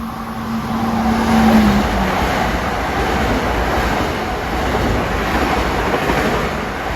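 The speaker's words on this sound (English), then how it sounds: "approaching on 2 is train 760, en route from Grand Central to Hempstead" Long Island Rail Road train 760 from Grand Central to Hempstead approaches Forest Hills station, a loud continuous rumble of wheels on rail with a brief horn-like tone early on, heard close with no talking.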